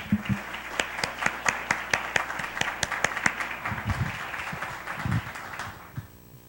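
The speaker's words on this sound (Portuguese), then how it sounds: "Quantos podem aplaudi-lo?" A church congregation claps during a Portuguese-language service, with scattered sharp individual claps over a softer crowd wash, fairly close and uneven, fading out near the end, with no speech.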